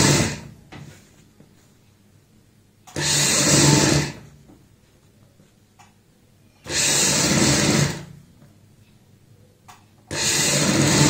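A sewing machine stitches lace onto a kurti sleeve in three steady motor runs of a second or more each, separated by quiet pauses with faint handling noises.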